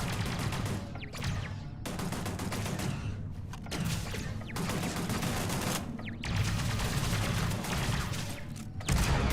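Rapid, dense gunfire from a shotgun-armed turret in the sci-fi game Starfield, loud and nearly continuous with brief gaps, the blasts overlapping into a heavy fusillade.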